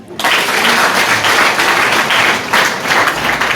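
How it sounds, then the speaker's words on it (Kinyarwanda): Applause for a wedding couple at a civil marriage ceremony: a sustained burst of crowd clapping, loud and dense, starting abruptly and holding steady for a few seconds. "naho mubahe amashyi"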